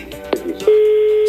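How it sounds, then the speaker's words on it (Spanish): A landline telephone call rings out over the line: a steady single tone that starts suddenly after a few faint clicks and holds on unbroken, loud and close, with no talking. "Sonando el teléfono."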